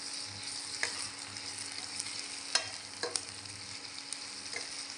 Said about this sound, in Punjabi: ਹੁਣ ਆਪਾਂ ਆਲੂਆਂ ਨੂੰ ਵੀ ਝੱਸ ਲੈਣੇ ਆ